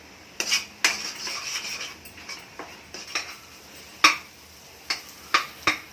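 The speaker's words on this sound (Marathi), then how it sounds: "पूर्ण ब्राऊन होईपर्यंत तो भाजून काढायचा, कारण कच्चा मसाला आहे." Raw masala for a black rajma and green bean amti being stirred and roasted in a pan, a spoon knocking and scraping against metal in irregular sharp clinks over a faint sizzle, close and without talk.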